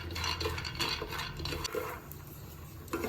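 A spoonful and a half of peanuts dry-roasting in a pan, stirred steadily with a spatula that scrapes and rattles against the metal in a close, continuous wash of noise.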